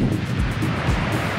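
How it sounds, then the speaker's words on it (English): Wild ocean waves surge along the shore at Koh Phangan, Thailand, a loud, continuous roar of surf mixed with wind buffeting the microphone. "The waves are quite wild out there today."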